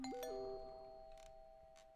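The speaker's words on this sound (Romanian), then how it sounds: "Cineva sună la sonerie." A two-tone doorbell chime rings once inside a house, close and clear. It is followed by a fading ring in an otherwise quiet room.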